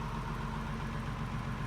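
A farm tractor engine idles steadily at low revs, close and continuous, with a deep even rumble and no voices over it.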